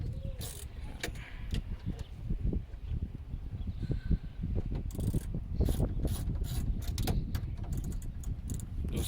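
A ratchet wrench loosening a brake caliper bolt on a 2002 Camaro Z28 gives repeated quick clicking strokes in bursts, close and fairly faint, with low handling noise in between.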